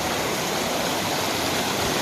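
Floodwater rushing over a submerged village road, a loud, continuous broadband roar of churning water that holds steady without pause and with no voices.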